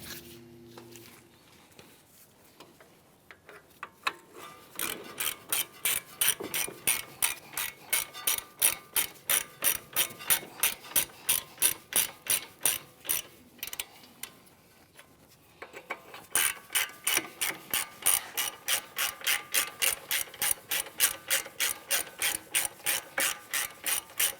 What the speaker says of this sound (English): Once we have these snugged up, we'll come back and torque them down.